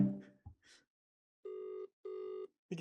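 A phone rings with two steady electronic ring bursts, each about half a second long, after a few faint sounds and a short quiet gap.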